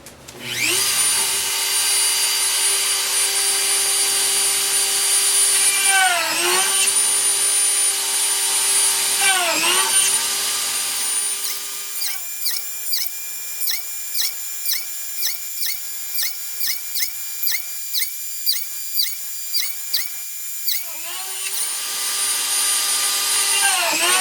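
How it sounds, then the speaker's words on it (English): A drill press whines loudly and steadily drilling holes in wood, dipping in pitch several times as it bites in, then a run of rapid short bursts before resuming. "go over to the drill press and drill out the entry holes"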